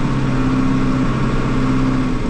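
A loader tractor engine runs steadily at close range, a loud continuous mid-pitched drone with a faint whine and no change in speed.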